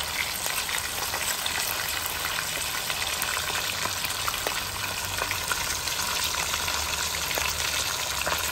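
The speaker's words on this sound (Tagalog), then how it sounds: "habang nagpiprito tayo sa labas" Steady, dense sizzle of food frying in hot oil outdoors, continuous and close, with faint crackles and no talking.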